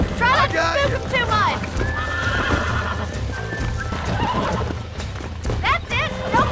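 Horses whinny several times in high, wavering neighs in Red Dead Redemption, with clip-clopping hooves and a person talking over them.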